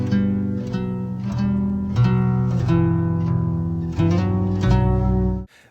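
Vocal sample dropped twelve semitones with Varispeed in a trap production, heard as a deep, slow, drawn-out sung line with shifting pitches, sounding full and close before cutting off sharply.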